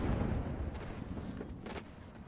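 Gunfire in the battle royale shooter Apex Legends, a faint, low rumble of distant shots and booms with a few sharper cracks, muffled and continuous without talk.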